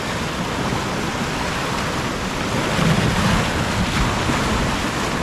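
Sea swell washing onto a UK beach during shore fishing for rays, a steady close roar of surf mixed with wind buffeting the microphone, no talk.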